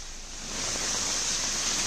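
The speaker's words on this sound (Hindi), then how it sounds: "पहली तस्वीर है देहरादून की, जहां पर बारिश हो रही है।" Rain falls steadily in Dehradun, a continuous hiss that swells slightly and then holds even, with no voices.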